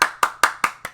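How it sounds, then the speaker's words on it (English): Five sharp hand claps in an even, quick rhythm, close and clear, with nothing else heard around them. "I'm clapping in case Discord didn't pick it up."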